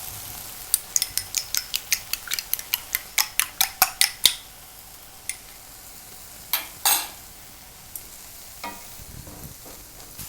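Egg whites from two eggs beaten by hand in a bowl, a quick run of regular whisk taps striking the bowl, then a pause and a few scattered clinks, close and alone.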